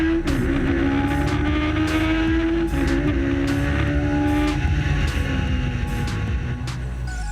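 Palatov D4 race car at speed on a track, its loud engine note rising and falling as it rips past, with repeated sharp bursts over a steady roar and no talk.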